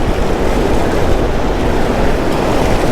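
Ocean waves wash in steadily at Ocean Beach, a continuous loud rush of surf mixed with wind buffeting the microphone, with no voices.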